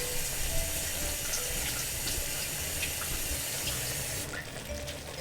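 Running tap water pours steadily as a lemon is rinsed under the faucet, a continuous close splashing hiss that changes tone near the end as the flow shifts.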